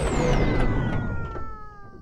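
Cartoon cat meowing in a children's animated show, a drawn-out falling meow that fades over a couple of seconds.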